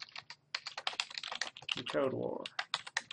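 Rapid clicking keystrokes on a computer keyboard, close and dense, with a voice speaking briefly in the middle.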